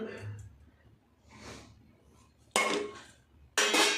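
A few soft rustles, then two sharp metallic clatters as ingredients including curry leaves drop into a metal bowl, close by with short pauses between.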